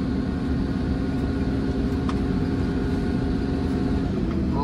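Heavy trucks idle and rumble at a demolition site, a steady low diesel drone close by with a faint metallic clank partway through and no talking.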